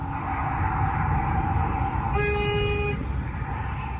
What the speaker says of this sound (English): The driver honks